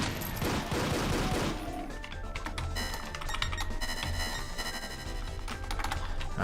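Pistol shots from the classic first-person shooter Doom, heavy crunchy reports mixed with a dense in-game soundtrack and effects, with several sharp hits standing out in the busy mix.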